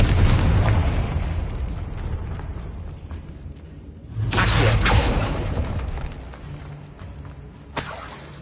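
Confringo fire spell blasts in the Hogwarts Legacy video game, heavy booming bursts with crackling debris, one at the start and another around the middle, then a sharp crack near the end.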